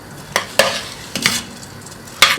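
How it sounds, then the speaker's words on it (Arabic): A few quick stirring scrapes as rice sautés in ghee in a pan over a soft sizzle, coming in separate bursts about half a second to a second apart. "ناخده تشويحه شويه كده في السمنه"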